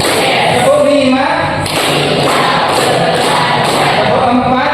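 Students in a classroom clap a short rhythmic pattern of crisp, loud hand-claps in a steady series, mixed with the whole class chanting together.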